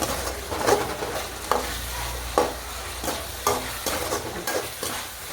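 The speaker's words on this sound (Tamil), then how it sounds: "இப்போ இஞ்சி பூண்டு பேஸ்ட்டு வீட்டில் இருக்குது, அதை போட்டு நல்லா வதக்கிட்டுக்கலாம்" Ginger garlic paste fries with onions in a pan, a constant close sizzle punctuated by about half a dozen scraping stirs of a spatula.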